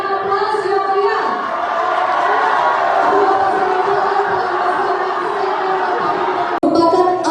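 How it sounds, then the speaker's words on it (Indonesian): An audience at a public election debate for the Wajo regency in Indonesia gives a loud, sustained roar of applause and cheering that fills the hall. It breaks off with a brief dropout near the end. "kami persilakan untuk kedua peserta yang diberikan aplaus yang meriah"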